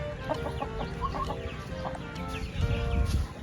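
Chickens being caught, giving repeated clucks in short bursts, close and clear, with rustling and handling noise that swells toward the end.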